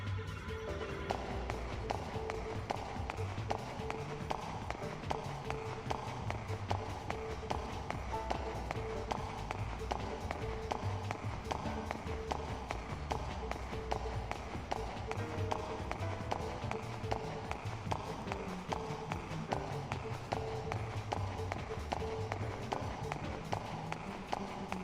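Loud, echoey footsteps in the video game Xenosaga 3 tap out a fast, even running rhythm throughout, over quiet jazz music in the background.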